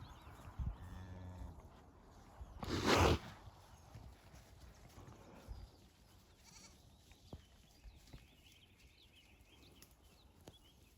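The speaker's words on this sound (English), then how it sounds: "Goats are loving it too." Goats bleat out in a wet field, with one loud, close call rising among fainter animal sounds and scattered rustling.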